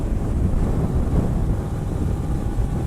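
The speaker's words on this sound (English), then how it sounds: "I'm already in third gear and I'm really... the wind is crazy." Heavy wind rushing past a rider on a 2018 Suzuki VanVan 200 motorcycle in third gear, a steady loud low buffeting roar over the microphone with no speech.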